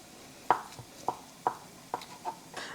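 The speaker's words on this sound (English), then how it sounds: "I am just slicing it" Kitchen knife slicing through potato on a cutting board, five or six crisp, evenly spaced cuts landing close and clear with short pauses between them.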